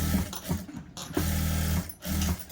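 A sewing machine stitching along the edge of a size 34 designer blouse: close, loud, steady motor whirring in short runs, starting and stopping with brief pauses between bursts.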